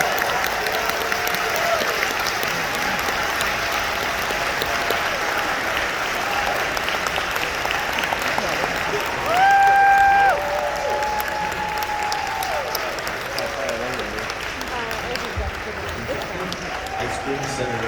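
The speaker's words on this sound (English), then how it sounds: "while you guys are clapping for this wonderful trio of actors from Star Trek: Strange New Worlds" Convention crowd at a Dragon Con 2022 Star Trek: Strange New Worlds panel applauding three actors, loud sustained clapping and cheering from a large hall, with a few brief tonal sounds partway through.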